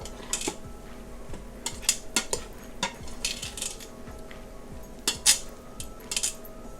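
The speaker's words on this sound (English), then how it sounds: "I was just trying to get the rest of that ghee off of my spoon" A spoon taps and clinks against a pan to knock off leftover ghee over onions, a scattered series of light metallic knocks, close and moderately quiet over a faint steady hum, with no talking.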